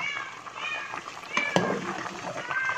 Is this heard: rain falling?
no